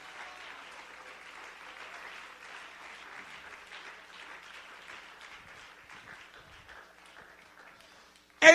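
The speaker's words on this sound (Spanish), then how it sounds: "Que el aplauso sea más grande que para el Señor." A church congregation breaks into steady applause during a sermon, moderately distant and even clapping lasting several seconds, ending with a sudden loud burst close to the microphone.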